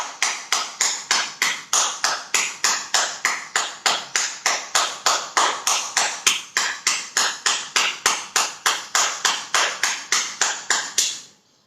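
Brisk, evenly paced hand claps with palms gripped together as part of a stretching yoga routine, loud and close, continuing in a steady rhythm for several seconds before stopping abruptly.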